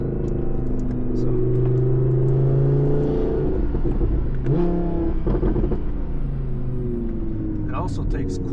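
Audi R8 V10 fitted with a Capristo exhaust revs in a loud, sustained engine drone with rising and falling pitch, heard close and steady throughout, with a brief swell midway and some overlapping sound.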